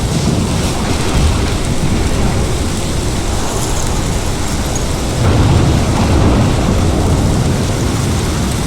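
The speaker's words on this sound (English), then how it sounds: "This is my storm." Thunderstorm in the Life Is Strange video game, a steady loud roar of heavy rain and rumbling low wind with a swell of thunder near the end, no voices.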